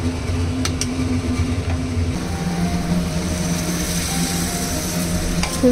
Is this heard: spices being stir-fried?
yes